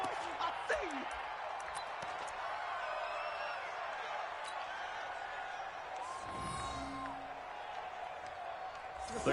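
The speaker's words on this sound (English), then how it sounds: "The crowd here in the Dome making things difficult." Stadium crowd noise inside a dome in a PS4 football video game: a steady, dense roar of spectators continues throughout, with some whistling tones and a brief swell partway through, while voices talk over it.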